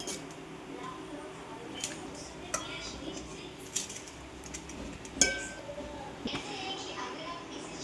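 Cooked rice spooned in layers into a pot with ghee, paneer and potato for a restaurant-style paneer biryani, with scattered soft scrapes and clinks of a spoon against the pot, close and quiet.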